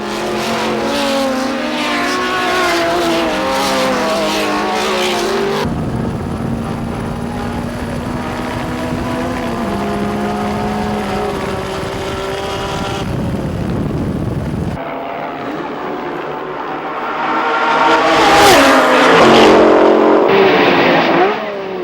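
Vintage race cars, Ferrari Tour de France, Cobra and Austin-Healey, racing in a golden-age grand prix. Loud engines roar and whine past, pitch rising and falling as the cars pass. Later a car accelerates hard.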